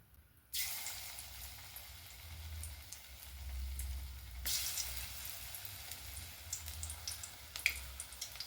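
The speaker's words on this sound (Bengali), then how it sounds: "সাদা তেল বসিয়ে দিয়েছি, তেল গরম হয়ে গেছে। এবার এই যে মাখাটা থেকে কিছুটা করে নিয়ে আর এর মধ্যে দিয়ে দিচ্ছি" Spoonfuls of soybean, beetroot and vegetable pakora batter drop into hot white oil, setting off a sudden bubbling sizzle that stays moderate, then swells again as more batter goes in, with faint crackles and no voices.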